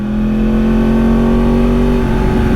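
A loud, close Ducati 1098 sport motorcycle engine held at a high, steady rev, dropping slightly near the end.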